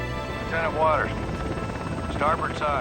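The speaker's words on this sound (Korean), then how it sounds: "헬기는 트루먼호로 귀환하던 중 리나가 봉사하고 있던 성당 상공을 통과하는데" A helicopter passes over a church while returning to the aircraft carrier USS Truman in a war film scene. Its broad rotor rumble runs steadily beneath continuous narration.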